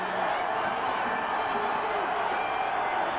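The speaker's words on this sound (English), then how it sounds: "the crowd really encouraging the Utah State defense to hold them on this drive up the middle" Stadium crowd at a 1993 Utah State vs BYU college football game roars steadily in a dense, distant wash of cheering, sustained throughout with no clear breaks.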